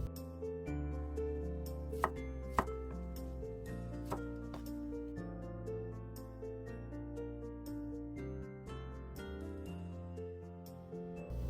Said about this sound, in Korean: 청양고추와 홍고추를 쫑쫑 썰어주고요.